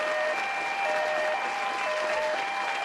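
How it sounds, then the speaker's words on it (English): Dense applause from many clapping hands, steady and fairly loud for about three seconds, with a faint tonal hum underneath. "Give this guy a round of applause."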